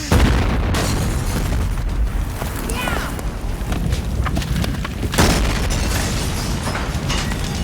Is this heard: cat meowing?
no